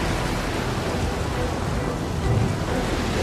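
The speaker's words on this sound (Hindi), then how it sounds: "मैं जानता हूँ ये भयंकर तूफान मेरी वजह से तुम पे आया है।" Violent storm at sea battering a ship, a dense, continuous roar of wind, rain and rumbling thunder, loud and without voices.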